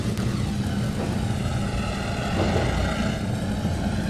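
Locomotive diesel engines running in the Trainz 2022 train simulator on the C&O Hinton line, a steady low droning rumble with a faint rising whine, continuous and fairly close, with no talking.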